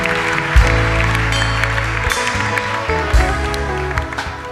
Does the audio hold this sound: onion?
no